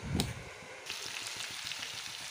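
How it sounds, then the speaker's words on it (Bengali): Mixed vegetables for a vegetarian dish fry in a pan with a steady, moderately loud hiss. Soft, rhythmic crackling runs through it, a brief knock comes near the start, and there is no talk. "এটা প্রায় ভাজা হয়ে গেছে"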